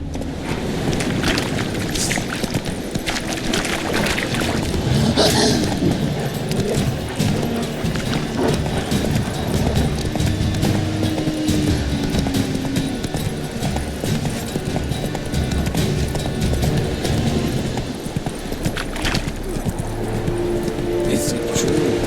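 Roach, Geralt's horse in Witcher 3, runs at a fast, continuous rhythm of hoofbeats, loud and close, under a dense backdrop of game ambience and rumble, with a voice speaking briefly.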